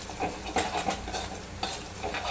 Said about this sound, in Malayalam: കുറച്ച് കറിവേപ്പില ഇട്ട് കൊടുക്കാം കറി നല്ലപോലെ ഇളക്കി